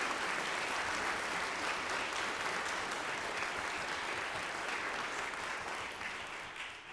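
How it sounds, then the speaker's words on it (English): A concert audience at a Florence Price community composer event claps steadily and fully, a dense, even wash of applause that holds for several seconds before easing slightly at the end. "Could we have a round of applause for the Serratas?"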